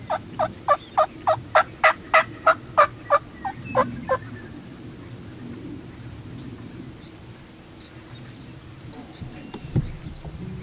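Wild turkeys gobble during a Colorado spring turkey hunt, a rapid run of about a dozen sharp, evenly spaced gobble pulses that fade out. Quieter calls follow from farther off over low outdoor background noise.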